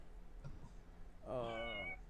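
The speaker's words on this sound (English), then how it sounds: "Oh, kitty cat." A cat gives one drawn-out, tonal meow near the end, close and fairly loud, after a short stretch of faint background noise with a few soft bumps.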